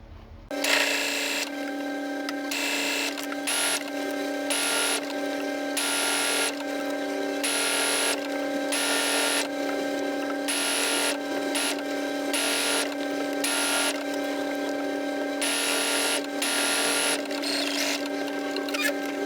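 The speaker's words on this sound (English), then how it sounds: "I'm going to serge around that edge instead of stitching again" A serger overlocks the edge of a fabric garment, running close and steady for nearly twenty seconds with a humming motor and rapid rhythmic chatter, broken by brief regular pauses as the fabric is guided, with no talking.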